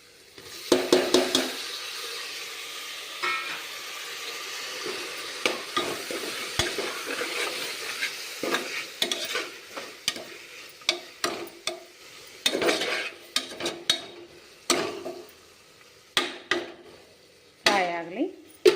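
Tomatoes with kasuri methi sizzle and fry in a pan for tomato rice, stirred by a utensil that scrapes and clacks against the metal in frequent, irregular strokes over a steady close-up hiss.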